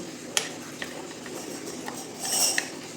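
A spoon clinks against a bowl while milk powder is stirred for kulfi, with a few sharp taps and a scraping swirl near the end, close and alone.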